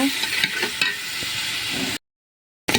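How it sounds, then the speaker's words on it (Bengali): Beef fat frying in a pan with salt and turmeric, a continuous close sizzle with occasional stirring scrapes, breaking off into a short silence before the sizzle briefly returns. "দিয়ে এই চর্বিটা ভালোভাবে কষিয়ে নেব।"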